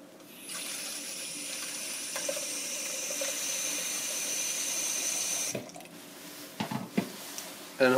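Water pours steadily into a container to mix windshield wiper fluid with three parts water, a continuous splashing stream that stops abruptly, followed by a few faint clunks and handling sounds.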